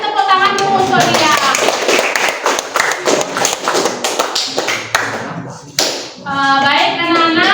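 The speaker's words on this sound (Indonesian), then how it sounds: "Oke, kasih tepuk tangan dulu untuk dia." A classroom of children bursts into lively applause, dense overlapping hand claps that rise loudly and then taper into scattered claps, with voices chattering over the end.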